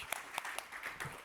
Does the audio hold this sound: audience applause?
yes